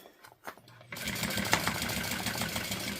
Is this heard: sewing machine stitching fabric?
yes